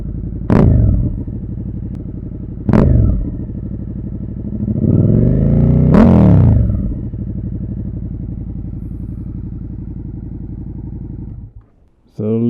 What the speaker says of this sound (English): without the dB killer, it has a really deep rumble in it